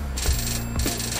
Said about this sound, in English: No one stops to pick up a ringing phone on the street.